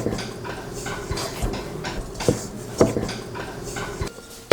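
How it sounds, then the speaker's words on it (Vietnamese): Milk goes into a bowl while bun dough for char siu bao is mixed, with a utensil clinking and scraping against the bowl in uneven, busy bursts, close by. "Tiếp theo mình đổ 200ml sữa hoặc là nước vào thố và trộn đều."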